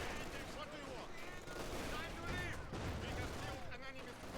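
Mortar and cannon fire in the Company of Heroes 2 battlefield, a dense, steady rumble of distant blasts and gunfire layered with combat noise, continuous and fairly faint throughout.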